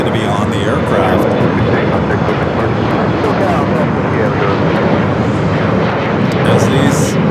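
A jet aircraft roars steadily and loudly at Los Angeles International Airport, a continuous engine rumble that fills the whole stretch without pause.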